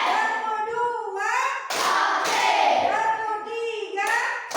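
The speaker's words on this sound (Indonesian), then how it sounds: "Sekarang kita tepuk semangat ya" Children in an elementary classroom chant and clap in rhythm, their voices carrying a sing-song pattern punctuated by bursts of hand claps and thumps, close and lively.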